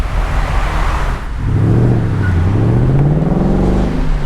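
A stock 2019 Ford Mustang GT with active exhaust revs up loud and close, its deep engine note climbing and sweeping upward as the car pulls away.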